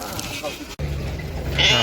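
Lambs at the Uzynagash livestock market near Almaty bleat a couple of times, close by, with a faint murmur of voices and farm noise around them.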